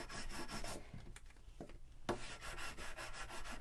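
A bone folder rubs down a glued paper flap on a handmade gift card holder, a steady close scraping friction that continues throughout, fairly quiet, with no voices.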